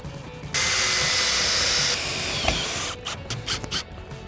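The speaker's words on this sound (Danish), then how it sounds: "Før vi sætter den næste modul ovenpå, sætter vi lige de sidste skruer i de forberedte huller." A power screwdriver whines loud and close as screws go into noise barrier fence modules, one long steady run that drops in pitch near its end, followed by a few short clicks and knocks.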